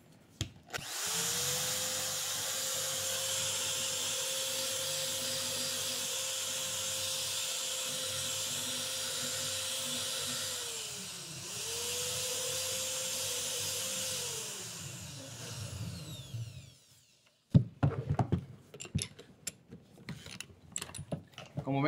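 A rotary tool fitted with a wood-carving burr bit whines steadily for about fifteen seconds, dipping in pitch once as it loads, then stops and is followed by a series of close clicks and knocks.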